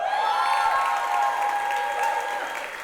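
Steady, dense applause from a church congregation, sustained for a few seconds with no talking over it.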